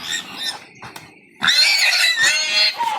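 A pig squeals and grunts in loud, close bursts, with a short quieter stretch before a long, harsh run of squealing.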